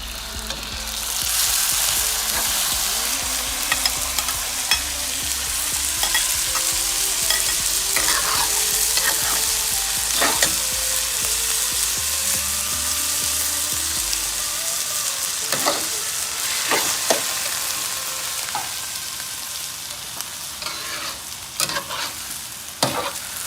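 Rice fried and stirred in a pot for a homemade chicken rice porridge gives a loud, steady sizzle with scraping stirs and occasional clinks of a utensil against the pot, close up, with no talking.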